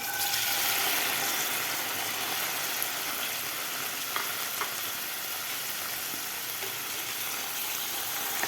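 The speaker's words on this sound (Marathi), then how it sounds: "या तेलामध्ये आपल्याला हे पनीर फ्राय करून घ्यायचं आहे" Paneer sizzles steadily in a little hot oil in a pan, a continuous close crackling fry with occasional small pops and no talk.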